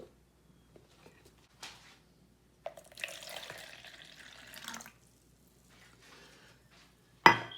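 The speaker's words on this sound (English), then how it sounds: "We now pour that into our mixture" Liquid is poured into a homemade hand sanitizer mixture, a soft, close trickle lasting about two seconds in a quiet room, with a few faint clinks around it.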